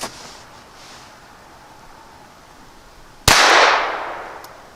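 A single sharp, loud crack from a Ruger LCP II .22 pistol firing CCI ammunition outdoors, with a brief rolling echo afterward and near-quiet before it.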